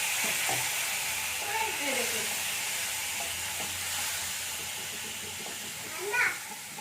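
A spice paste sizzles in a pan after water is added while a snack is cooked from semolina, with a steady hiss under scraping stirs, and children chatter in the background.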